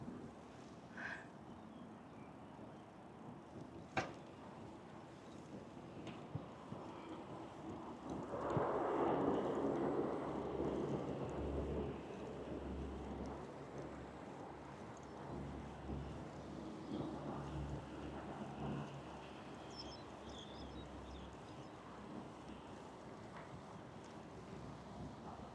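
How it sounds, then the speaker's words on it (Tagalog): Strong wind buffets the microphone while biking through a sports park in Taipei, a low roaring rumble that rises into heavy gusts partway through and stays rough and uneven, with occasional small knocks. "Ang lakas ng hangin"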